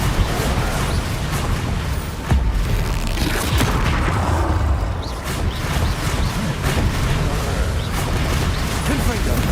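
Repeated Confringo blasting-spell explosions in Hogwarts Legacy, a dense run of booming bursts and crashes that keep going at steady loudness across the clip, mixed with game noise and a voice talking over it.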